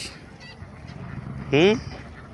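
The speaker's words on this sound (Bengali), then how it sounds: "ও হাঁসের ঘের আব্বু, হাঁস আর হাঁস।" A single loud honking quack from a duck at a riverside duck farm, rising briefly over a steady murmur of background noise.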